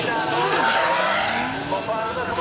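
A drift car slides around the track at Ebisu with a continuous loud tire squeal over a roaring engine, and a commentator talks over it.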